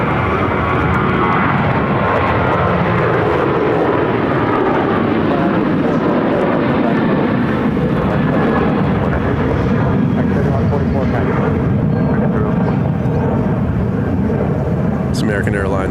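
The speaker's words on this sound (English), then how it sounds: "American Airlines Flight 3144 headed to Denver on a 737-800" An American Airlines Boeing 737-800 jet headed to Denver roars loud and continuous at close range at Phoenix airport, with steady engine rumble and voices talking over it.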